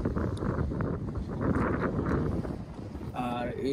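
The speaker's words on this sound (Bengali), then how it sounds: "যদিও অনেক বাতাস" Strong wind gusting across a microphone on a riverbank in a park in Russia, a dense low rumbling buffet that stays loud throughout, with a brief faint tonal sound near the end.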